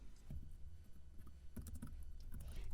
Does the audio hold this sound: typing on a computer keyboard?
yes